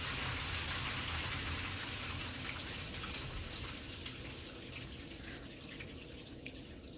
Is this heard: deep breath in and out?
no